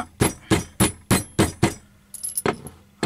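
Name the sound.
hammer striking leather collar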